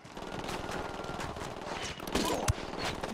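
Gunfire in the video game Ghost Recon Wildlands, a rapid fusillade of shots at moderate level over background game noise, with one sharper burst near the end.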